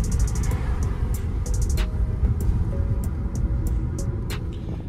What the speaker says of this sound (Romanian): Ne auzi filtrul. Că are filtrul sport pe ea.